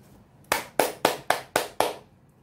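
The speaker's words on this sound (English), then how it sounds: "please, I clap" Six sharp hand claps ring out close and loud in an even, steady rhythm, each with a short decay, with no talk.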